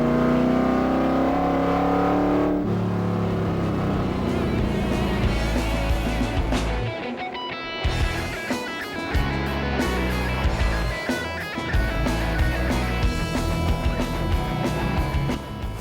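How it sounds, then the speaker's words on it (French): A Corvette V8 roars loudly on a Tour Auto rally stage, its engine note rising and shifting with revs and gear changes, continuous and close throughout. "Heureusement, le V8 de la Corvette, lui, est toujours là."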